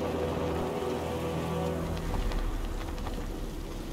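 Steady rain pouring down in a night-time Gotham city setting in a video game, a dense continuous hiss with light pattering drops, heard alone at moderate loudness without talk.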